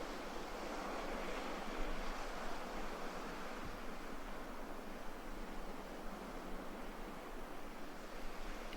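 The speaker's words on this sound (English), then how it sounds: "You listen to the hush of the ocean," Steady, soft wash of ocean surf at dawn in Bali rolling continuously with no voices, a broad hiss of breaking waves at an even, moderate distance.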